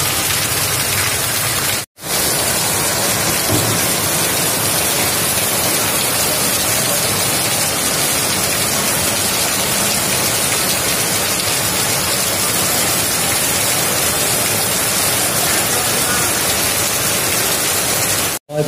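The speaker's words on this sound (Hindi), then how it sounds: "आज बाहर इतनी जबरदस्त बारिश है ना" Heavy rain falls outside in a constant hissing downpour, loud and even throughout, broken only by two brief cuts to silence, with no one speaking.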